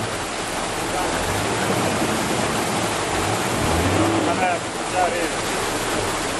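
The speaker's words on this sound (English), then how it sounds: "like down there is a stream down here. This is the river" Steady broadband rush of a river stream flowing near farmland, continuous and fairly loud throughout, with faint voices and a few brief tones under the water noise.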